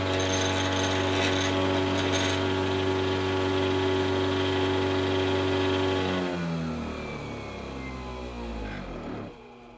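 A treadmill motor mounted on a drill press spins at about 6,400 RPM, slightly out of alignment, giving a loud, steady mechanical whine that holds for several seconds, then winds down and fades as the motor coasts to a stop.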